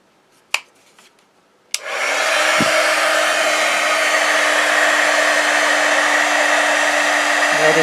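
A heat gun clicks on and then blows with a loud, steady whooshing roar that holds constant to the end, preceded by a few small handling knocks in an otherwise quiet room.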